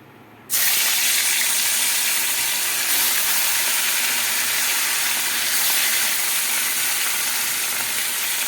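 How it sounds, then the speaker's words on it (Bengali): Katla fish fried in hot oil in a kadai-style wok, giving a loud, steady sizzle that bursts in abruptly and holds close and continuous to the end with no talk. "তেলটা গরম হয়ে গেছে এবার মাছটা আমি দিয়ে দেবো"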